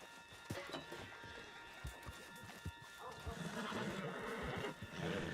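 Horse in the Red Dead Redemption 2 video game neighing and whinnying, with clip-clopping hooves and faint background voices beneath, moderately close and steady over a low ambient bed.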